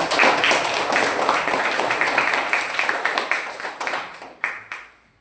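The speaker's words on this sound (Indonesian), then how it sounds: "Ya, tepuk tangan buat Niki." Classmates applaud a student named Niki in a classroom during a coding lesson, a dense patter of many hands clapping steadily that thins out and fades, with a couple of final claps near the end.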